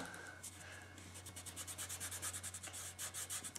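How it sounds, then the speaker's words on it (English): Painter's tape being rubbed down onto paper for stamping, a quiet close series of quick rhythmic scratchy strokes speeding up toward the end. "Give it a bit of a rub down"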